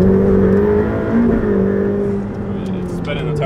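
Ferrari F8 Tributo accelerating hard in third gear with full turbo boost, a steady loud engine drone holding under continuous talk from the cabin.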